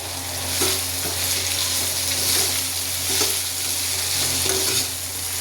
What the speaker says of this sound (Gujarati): હવે આપણે 4 થી 5 કડી પત્તાના પત્તા એડ કરીશું અને મિક્સ કરી દઈશું।